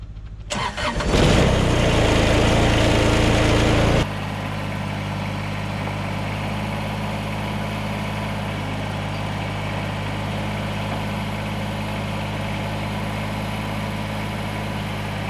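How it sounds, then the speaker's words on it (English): A Kubota tractor engine cranks and catches, roaring loudly for a few seconds before settling into a steady, even diesel idle that runs on alone, close by, without any talk. "So we'll have to bring the Kubota over, yeah, with the forks and swap it out."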